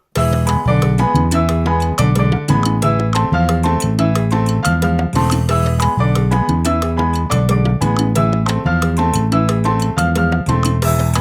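A Latin piano montuno played with a misplaced, incorrect rhythm runs over a full band groove, loud and steady with repeating syncopated chord stabs and percussion throughout, no talking.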